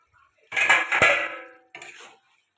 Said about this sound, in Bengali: এবার ঢাকাটা খুলে একটু দেখে নেব